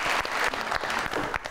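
Studio audience applause on a Pakistani celebrity talk show, a dense steady wash of clapping that fills the room throughout with no speech over it.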